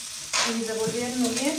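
Rajas con crema sizzle and fry in a pan as a spoon stirs them, a steady close hiss with scraping strokes, while a voice speaks briefly over the cooking.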